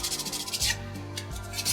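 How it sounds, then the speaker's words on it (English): Sandpaper rubbing the rough edges of a wooden 3D motocross bike model kit, a close, soft scratchy rasp in short repeated strokes. "Smooth any rough edges with the enclosed sandpaper."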